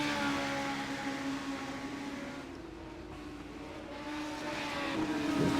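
Formula Fun Cup race cars lapping a track, a sustained engine drone heard from a distance with tonal whine that dips slightly midway and swells again as a car approaches.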